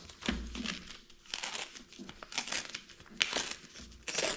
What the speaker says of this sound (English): Flip it over again and rip on that crease.